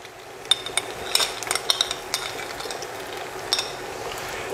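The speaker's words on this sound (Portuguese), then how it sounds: "Se a sua ricota não é cremosa como aquela que você está ouvindo" Scraping, clicking stirs of a utensil against a pan as creamy ricotta is worked into fried sausage, with irregular light clinks over a faint sizzle and no talking.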